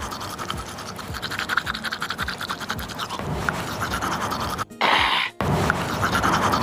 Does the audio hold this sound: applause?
no